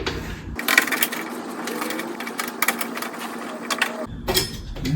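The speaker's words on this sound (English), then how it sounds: "Let's loosen those screws up a little bit." A hand tool works on screws of a Samsung oven door bracket, giving close, irregular metallic ratcheting clicks and scraping turns with brief pauses, with no talking.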